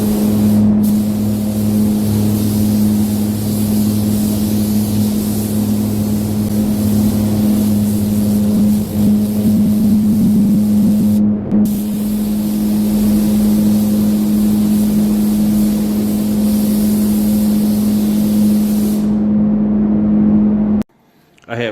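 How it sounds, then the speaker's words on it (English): A spray can coats a golf cart part in black paint, a steady close hiss running almost without a break, with a low constant hum underneath and one short gap before the spraying stops near the end. "I'm going to paint it black first."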